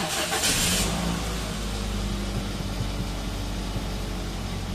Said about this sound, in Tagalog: Start ko muna itong makina.